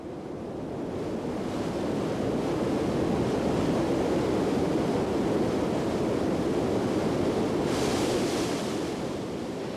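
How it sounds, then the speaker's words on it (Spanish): The Krimml Waterfalls in the Alps, water plunging through three successive cascades and crashing 380 metres below, make a dense, steady roar that swells slightly and holds without break, with no voices. "El agua se precipita a través de 3 cascadas, una a continuación de la otra, y se estrella"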